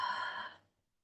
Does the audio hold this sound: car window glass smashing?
no